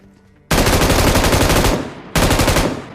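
Rapid automatic gunfire in PUBG, a loud dense burst lasting over a second that tapers off, then a second burst after a brief pause, with no talking.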